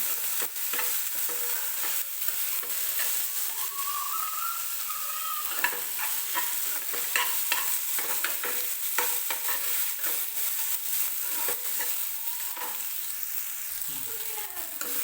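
Tomatoes sauté in oil for a potato kurma, making a steady, bright sizzle. Irregular stirring scrapes and taps run through it, close and fairly soft, with no voices.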